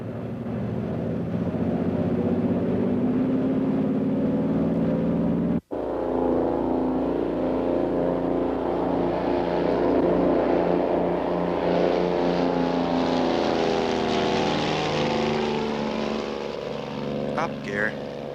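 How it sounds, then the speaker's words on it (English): A Twin Bonanza twin-engine airplane taking off from runway 25 left at Los Angeles in 1967, its engines droning steadily and loudly throughout as a pilot talks over the radio. "Twin Bonanza 6906 Tango's airborne 25 left."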